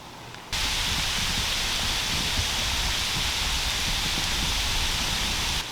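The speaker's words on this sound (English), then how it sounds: "It's like a heavy hail right now." Heavy hail falling outdoors during a deer hunt in Ontario, a dense steady hiss of pellets striking surfaces that starts abruptly after a brief quieter moment and continues unbroken.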